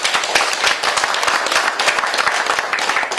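Steady, dense applause from a small gathering at a founding meeting of a forum, clapping continuously as the motion is approved, with a faint voice underneath.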